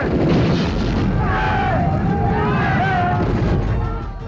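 Loud, dense battle gunfire fills a scene from an Indian Marathi war drama, with a continuous roar of shots and blasts throughout and faint shouting voices rising in the middle before the din eases slightly at the end.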